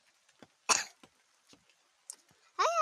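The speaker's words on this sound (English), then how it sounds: "I have a cough." A few short coughs and throat-clearing bursts close by, ending in a longer, strained vocal sound.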